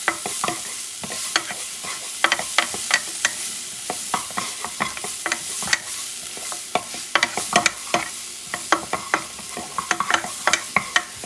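Onions caramelize in a pan for rosemary rice with a steady sizzle, while a utensil stirs them in quick, repeated scraping strokes, close and clear with no talking.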